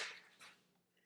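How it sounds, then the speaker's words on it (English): Papers knocked over by a cat spill out in a brief papery rustle and slide, a short burst followed by a second softer swish, then trailing off into quiet room tone. "I have 3 cats, and one of them just knocked over a whole pile of papers."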